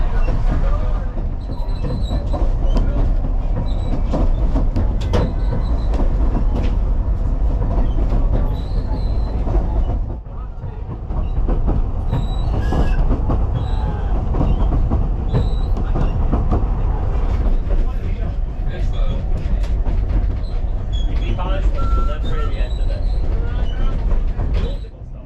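Ffestiniog Railway train crossing the Cobb, a 1.4 km causeway into Porthmadog, with a steady loud rumble of wheels, rhythmic clickety-clack and occasional squeal heard from inside the carriage, with a brief dip partway through.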